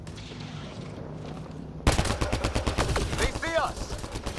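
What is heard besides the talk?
gunfire in video game Mass Effect: Andromeda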